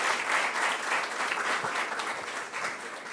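A church congregation claps for a visiting bishop, dense steady applause from many hands filling the room throughout, no voices standing out.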